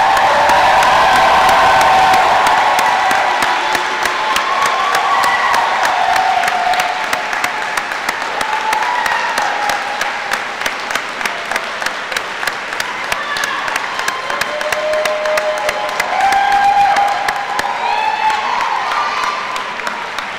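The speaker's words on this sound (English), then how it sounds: "Let's give our graduates a warm round of applause." Steady applause from a large crowd at a college commencement ceremony as graduates are honored, dense clapping throughout with scattered cheers and voices mixed in.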